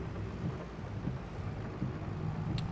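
Rain and distant thunder in the Farming Simulator 22 game, a faint, continuous rumbling wash of rainfall with low thunder swells and no voices.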